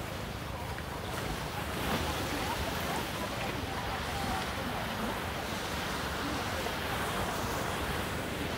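Sea surf washes onto a beach at Santa Cruz, Davao del Sur, in the Philippines, a continuous hissing roar of waves mixed with wind buffeting the microphone, with faint voices in the background.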